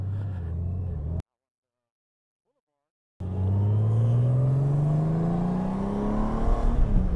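A Honda Goldwing motorcycle accelerates with a rising, rumbling engine note as the throttle opens, heard close and loud after a short silent break.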